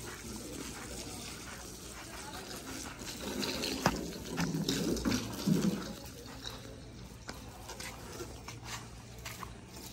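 Steady water runs and splashes for the whole stretch, a broad rushing hiss with some gurgling swells in the middle, fairly close and moderately loud.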